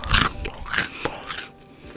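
Crispy fried mushrooms being bitten and chewed up close: a loud crunching bite followed by a few more crackly chews in quick succession, with no talking.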